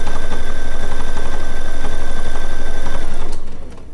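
Sewing machine running a decorative stitch along quilt binding, a loud, close, steady rapid hum and needle patter that holds for about three seconds before slowing and winding down.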